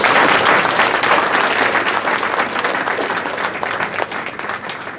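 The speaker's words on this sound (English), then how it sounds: "So a big round of applause, everybody, for that." A room full of people at a youth team's end-of-season gala applauds loudly and continuously, the dense clapping slowly tapering off toward the end.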